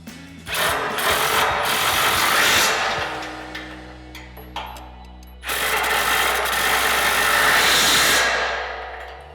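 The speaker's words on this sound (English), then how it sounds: "now we're going to grab our 19mm socket on our impact and a 19mm wrench" Impact wrench with a 19mm socket tightening the mounting bolts of a Ranch Hand Legend Series front bumper on a 2017-2022 Ford F-250: two loud, close, sustained whirring bursts of several seconds each, separated by a short pause.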